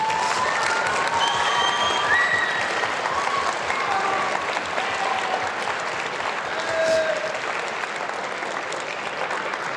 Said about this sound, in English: Let's all stand up and give them a big round of applause.